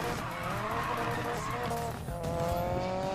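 Car tires squealing through a long drift in Need for Speed Payback's speedcross racing, a continuous high screech over a revving engine, loud and close.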